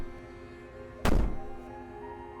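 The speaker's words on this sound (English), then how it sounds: "Bang on the door all you want." A single heavy thud of someone banging on a door in the video game Slay the Princess, a loud close knock that fades quickly over a low humming background.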